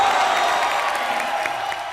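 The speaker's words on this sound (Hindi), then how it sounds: "बिल्लो के लिए जोरदार तालियां" Studio audience applauding on a Hindi comedy show, a steady dense wash of clapping and crowd noise held throughout at moderate loudness.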